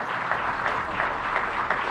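A crowd at a Venezuelan chavista political gathering applauds Rafael, a loyal cadre leaving for new responsibilities. The clapping is dense and steady, a continuous wash of many hands that holds at an even level for the whole stretch.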